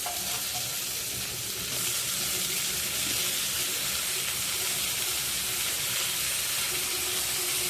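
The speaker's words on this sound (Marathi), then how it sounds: "हे पहा आता आपला कांदा परतलेला आहे आणि मी आता याच्यामध्येच टोमॅटो परतून घेत आहे" Onions and tomatoes sautéing together in a pan for masala brinjal, a steady close sizzle with soft stirring, continuous and fairly quiet with no talk.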